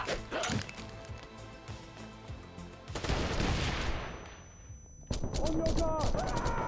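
Gunfire and combat effects from the video game Wanted: Dead come in bursts of sharp shots and crashes with game audio underneath. A loud flurry starts around the midpoint, and in-game voices are heard.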